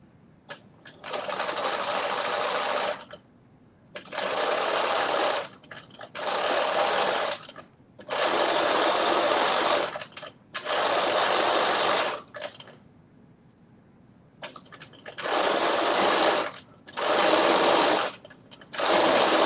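A sewing machine stitches fabric in a series of loud, close bursts of rapid whirring, each a second or two long and separated by short pauses.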